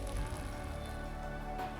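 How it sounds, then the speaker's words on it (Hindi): Sudden heavy rain falls on the mountain road to Kedarnath, a dense continuous patter and hiss close by that stays steady through the short stretch. "रास्ते में अचानक से तेज बारिश शुरू हो गई।"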